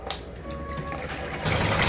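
A household tap, freshly fitted with a new washer, is turned on and water gushes out steadily and fairly loudly in the last half second after some quieter clinks and rustles.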